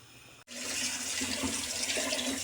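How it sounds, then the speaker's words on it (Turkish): Cooking water from boiled village lentils pours out steadily as they are strained. The gushing rush starts abruptly and keeps flowing close by, with no talk. "Şimdi süzelim arkadaşlar."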